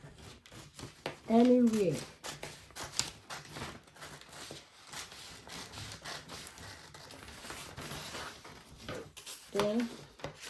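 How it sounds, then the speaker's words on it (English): Scissors cut through corset fabric in short snipping bursts near the start and end, under steady close talking. "We are cutting it out now."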